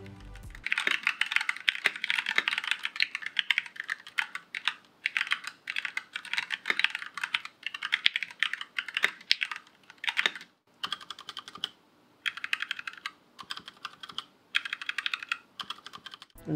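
Rapid clacky keystrokes on a Tecware B68 mechanical keyboard in steady bursts with brief pauses, close and fairly loud, no talking.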